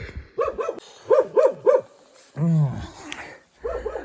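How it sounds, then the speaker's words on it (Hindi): A dog barks at night in a hill village: a quick run of sharp, close barks, then a drawn-out whining yelp, followed after a pause by a few more barks. "आज ये टाइम से पहले ही भौंक रहा है"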